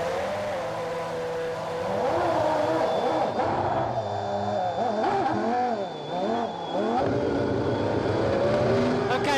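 Formula 1 car from the F1 2006 racing game, set up to understeer and running at the Montreal circuit: a loud, sustained engine whine rising and falling through gear changes and revs, close and continuous.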